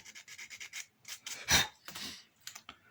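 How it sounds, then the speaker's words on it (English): Small model truss bridge part being sanded by hand to remove a tiny pip, giving short, rhythmic scratchy rubbing strokes close up, with one louder, longer stroke in the middle and no talking. "we sand a little pip off"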